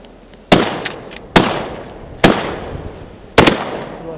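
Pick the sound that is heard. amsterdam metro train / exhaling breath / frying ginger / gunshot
gunshot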